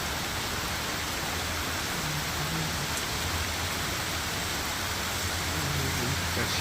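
Rain falling during a storm in upstate New York, a constant dense hiss of downpour with no gaps, steady and fairly loud throughout, with faint low rumble beneath.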